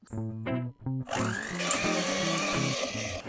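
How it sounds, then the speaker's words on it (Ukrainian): An electric hand mixer whips egg whites into a thick white foam for a peanut cake, starting with short bursts and then settling into a steady, close, continuous whirring drone. "Ну, в общем, збиваємо до густої білої пінки"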